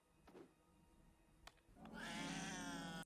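A cat yowls in a scene from the 2009 animated film Coraline: brief earlier sounds, then from the midpoint a loud, sustained, strained caterwaul that runs to the end.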